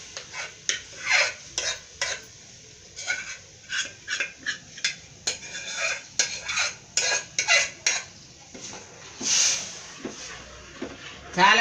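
Split pigeon peas and lentils are tipped and stirred into a pressure cooker, giving repeated metallic clinks and scrapes of a spoon against the pot in uneven bursts, with a brief hiss near the end.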